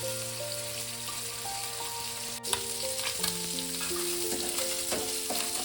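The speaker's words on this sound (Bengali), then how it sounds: "মাছগুলো ভেজে আপনাদেরকে আমি দেখাচ্ছি" Small chela fish frying in hot oil in a pan, a steady close sizzle with bubbling crackle and occasional stirring clinks, continuous with no talking.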